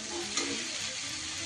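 Spice paste for nim jhol, a bitter neem-leaf vegetable stew, sizzles steadily in a pan while being stirred, a close, continuous frying hiss throughout the brief moment.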